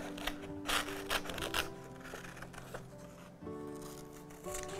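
Scissors snip through paper while cutting out a hand shape for a children's craft, a run of short close cuts and rustles over steady background music.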